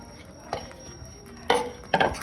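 Spinach and paneer pieces stirred in a pan for dhaba-style palak paneer, giving a few scraping, clattering strokes at separate moments against a quiet kitchen background.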